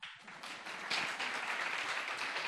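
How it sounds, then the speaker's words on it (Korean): Congregation clapping at a church revival meeting, a soft, fairly distant patter of hands that swells a little after the first second and holds steady. "나한테는 박수 친다"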